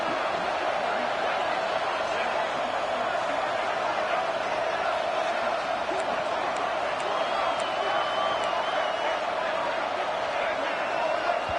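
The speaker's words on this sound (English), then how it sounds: "And with this place rocking, the crowd forces a false start." Dense, roaring stadium crowd at a college football game in Starkville, with cowbells ringing, a steady loud wall of noise through third down, a sustained high whistle-like tone weaving in, and a commentator talking over it.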